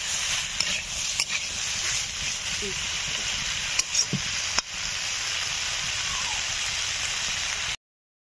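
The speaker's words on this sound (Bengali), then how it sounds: "তো আলুটা একটু ভালো করে ভেজে নিতে হবে।" Potatoes fry with onions in a pan, a steady hissing sizzle with a few sharp clicks and knocks from stirring, close and fairly loud, with a soft voice briefly heard before the sound cuts off.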